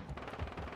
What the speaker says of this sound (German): Timo wird hier beschossen